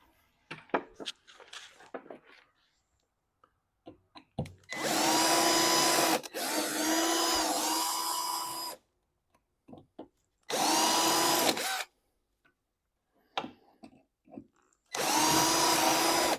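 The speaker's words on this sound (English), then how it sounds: "I've got an 1/8 inch bit in my drill." A power drill with a 1/8 inch bit drills out tubular rivets in three loud, high whining bursts of several seconds each, separated by quiet gaps with small clicks and handling taps.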